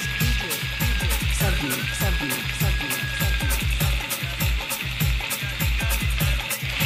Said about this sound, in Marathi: आता त्याच्यामध्ये माझ्यासाठी मच्छी बनवत आहे.